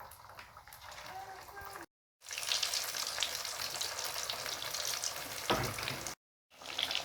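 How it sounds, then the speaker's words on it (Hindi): Potato roll cutlets frying in hot cooking oil make a loud, continuous crackling sizzle, broken by two brief gaps of silence. "कुकिंग ऑयल को गर्म कर चुके हैं। तो अब हमने इसके ऊपर ये फ्राई करने हैं जो हमने बनाया कटलेट्स"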